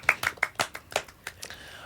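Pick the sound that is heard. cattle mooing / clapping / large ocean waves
clapping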